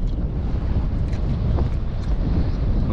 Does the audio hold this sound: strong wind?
yes